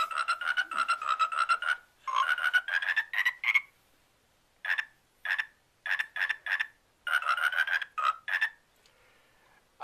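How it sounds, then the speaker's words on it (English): A toy Michigan State toad croaks repeatedly in rapid bursts of raspy chirping notes, loud and close, with short pauses between runs. "the Michigan State Toad"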